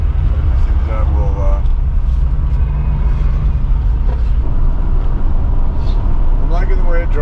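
Mercedes car driving on a transmission waste oil blend, a continuous low engine and road rumble heard from inside the cabin, with bits of speech over it.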